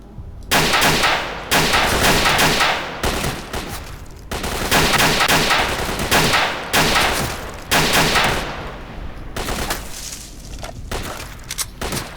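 Rapid bursts of automatic gunfire from the S.T.A.L.K.E.R.: Shadow of Chernobyl shooter, loud, close and repeated in long sustained volleys with brief gaps between them, no speech.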